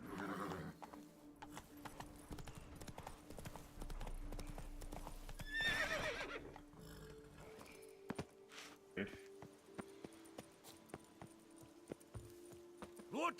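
The horse Roach in The Witcher 3 galloping, rapid rhythmic hoof clip-clops with a brief whinny partway through, set against game ambience, and a voice speaking at times.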